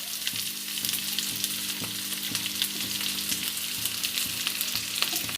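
Boiled potatoes sizzle in a hot pan, a bright, dense crackling fry that stays steady throughout with faint periodic clicks, close and alone without speech.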